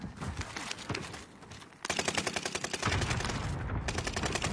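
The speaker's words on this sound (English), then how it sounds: "Allied precision airstrike incoming" Video-game airstrike with heavy gunfire: dense, rapid automatic bursts and crackling shots that grow louder and more continuous partway through, with no talking.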